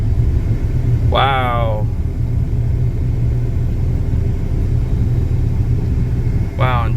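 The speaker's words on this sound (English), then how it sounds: "Let's start the car. Okay, let's put it on high." Dodge Dart engine idling with a deep steady rumble while the AC blower runs on high as a constant rushing hum; a voice briefly exclaims twice over it.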